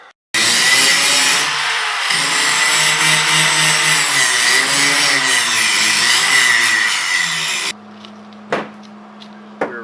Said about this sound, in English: So let's grind off this paint.